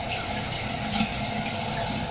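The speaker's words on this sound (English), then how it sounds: "Now, we're gonna take hot water." Hot water running steadily from a tap for face lathering with Mitchell's Wool Fat shaving soap, a continuous close-up rushing and splashing that stays even and fairly loud throughout.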